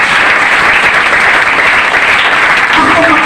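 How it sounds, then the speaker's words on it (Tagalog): Church congregation clapping in praise of the Lord, a dense, loud, continuous patter of many hands sustained throughout, with a faint voice entering near the end. "Palakpak para sa Ginoo mga kaigsunan"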